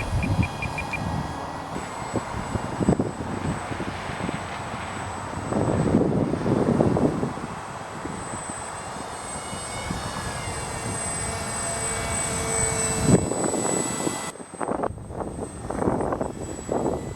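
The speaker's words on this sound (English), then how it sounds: "This airplane surely does fly a lot better than the original setup." A small RC model stealth fighter airplane's engine drones steadily as the plane flies, its whine swelling and fading with passes, with wind buffeting the microphone throughout.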